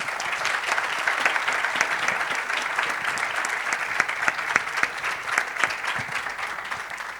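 A conference audience in Mar del Plata applauds steadily and densely for several seconds, a sustained wash of many hands clapping at even loudness with no talk over it.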